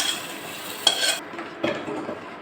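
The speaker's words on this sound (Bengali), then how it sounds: "ভেজে নেওয়া পেঁয়াজ আর রসুন এবার ডাউলের ভিতর দিয়ে দেব।" Fried onion and garlic tipped into lentil dal with banana flower, a soft sizzle and stirring with two brief clanks of a utensil against the pot, close and without talk.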